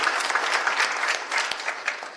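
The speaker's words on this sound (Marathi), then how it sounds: "त्यांच्यासाठी टाळी वाजवा." Dense, steady applause from a large audience at an akhand harinam saptah devotional gathering in Shri Kshetra Ajang, Beed, a continuous wash of many hands clapping at close range.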